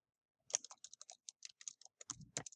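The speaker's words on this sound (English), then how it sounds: "then you're going to continue typing that paragraph" Quick keystrokes on a computer keyboard while a paragraph is typed, a close, quiet burst of irregular clicks after a brief silence, ending with a couple of heavier key presses.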